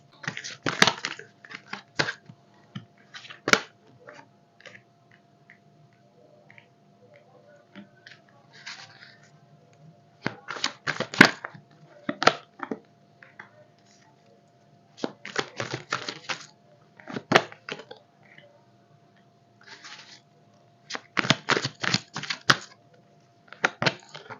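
Tarot cards being shuffled in bursts, crisp riffling clatters repeating in short clusters with pauses between them, close and fairly loud with no talking.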